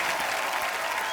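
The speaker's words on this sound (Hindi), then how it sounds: "तालियां और जोरदार होनी चाहिए।" A studio audience at a comedy talk show claps in loud, dense, continuous applause that fills the short stretch without a break.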